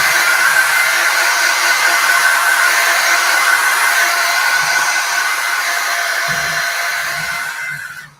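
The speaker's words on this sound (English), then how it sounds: "You see how quick it is when you dry with the hair dryer" A hair dryer blows continuously at close range to dry craft paint, a loud steady whoosh with a faint hum that stops abruptly at the end.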